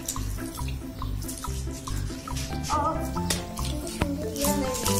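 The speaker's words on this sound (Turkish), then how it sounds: "Oo, oh, su çok geldi." Tap water running and splashing into a sink while toy farm animals are rinsed, a loud steady gush with drips and squishy handling noises close by.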